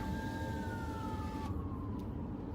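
A police car siren wails in a town near St. Paul, its sweeping tone sliding downward in pitch as it passes, over constant loud road and engine rumble, with no talking.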